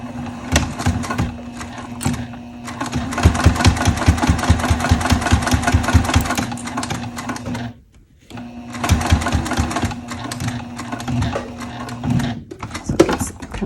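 A sewing machine stitches through a thick, bulky shoulder strap pad in steady rapid mechanical chattering, close and continuous, pausing briefly before resuming at a similar pace.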